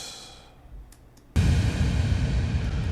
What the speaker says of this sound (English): This is a nice little explosion kick.